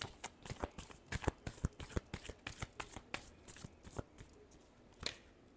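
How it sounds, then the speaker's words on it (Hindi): Tarot cards being shuffled by hand, a rapid series of crisp riffling snaps and slaps in irregular bursts, close and fairly quiet with no talking. "Last shuffle."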